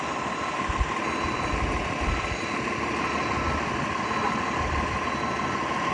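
A steady, loud engine drone with a constant low rumble and a faint tonal whine, running continuously without pause.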